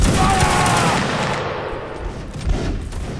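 A rolling musket volley crashes out in the Napoleonic-era battle game Mount and Blade: Napoleonic Wars. It is a dense, loud burst of overlapping shots that fades into scattered distant reports.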